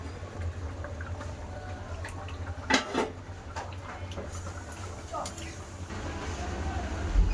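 A pot lid lifted off a simmering pot of potato and meat curry, a couple of brief metallic clanks and scrapes close by amid a low kitchen hum, with a voice talking throughout.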